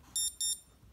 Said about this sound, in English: So that's the alarm.